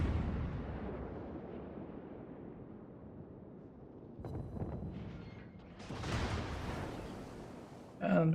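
Incoming shells in a World of Warships naval battle land as a few heavy booming explosions and rumbling bursts, one after another, with the last burst sharp and near.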